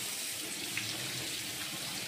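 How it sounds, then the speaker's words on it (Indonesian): Dried anchovies are rinsed under a running kitchen tap, a steady hissing stream of water splashing into a sink, fairly quiet and continuous with no voices. "di sini saya siapkan ikan bilis yang sudah dikope dan saya mau cuci"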